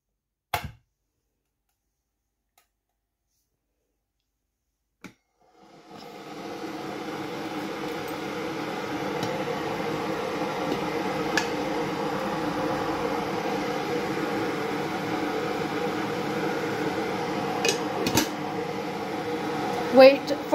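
An electric kettle heats water for tea, starting with a couple of clicks, then a steady rushing hiss and rumble that holds evenly and builds slightly toward the end.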